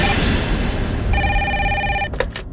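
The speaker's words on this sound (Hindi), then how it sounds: "कैसा फोन है, फिर भी बज रही है।" A telephone, an official landline at a women's police station, rings with repeated electronic trills over a steady background hum, loud and close, with no talk heard.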